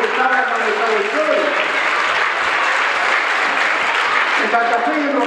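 An audience at a cultural event applauds students from Santa Fe, a dense, loud, steady wash of clapping lasting several seconds with no break.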